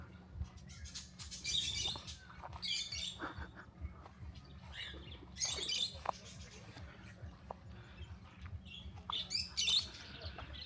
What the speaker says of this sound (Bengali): এই যে পাখির খাঁচা, ওই যে পাখিগুলা।